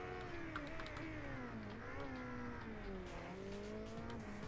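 Motorcycle engines in the Ride 2 racing game scream at a race start, a loud continuous whine of revving bikes with shifting pitch as they accelerate away together, with faint talk underneath.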